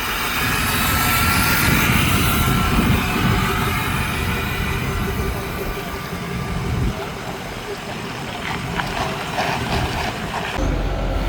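A diesel truck runs hard on a dyno, its loud, sustained engine roar and whine droning through the whole stretch, with a crowd audible in the background.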